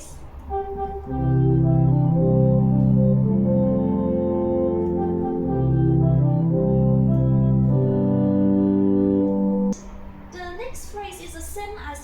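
An organ plays the opening bars of the hymn Give Me Joy in My Heart (Sing Hosanna), sustained full chords moving slowly and steadily, close and loud, ending abruptly before a brief burst of other sound.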